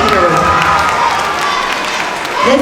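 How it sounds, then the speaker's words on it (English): Audience clapping at an elementary school award ceremony, a steady, dense wash of applause filling the room from start to finish, with a slight swell near the end. "Let's give a big clap for Jared Brundage"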